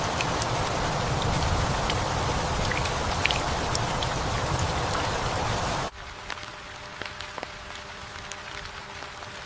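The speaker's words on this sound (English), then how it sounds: "Rain falls without warning." Steady, heavy rain hisses for several seconds, then abruptly thins to a quieter patter with scattered individual drops ticking nearby.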